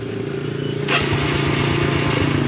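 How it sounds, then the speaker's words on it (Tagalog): A Honda Wave 110 motorcycle engine rumbles, then revs up sharply partway through and settles into a louder, steady throbbing idle nearby. "andar yung motor natin guys"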